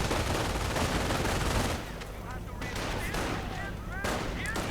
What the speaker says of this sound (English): Rifleman coming under fire as usual.